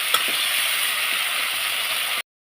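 Spice paste with turmeric, salt and tomato sautéing in a pan, a steady close hiss of frying for about two seconds before cutting off.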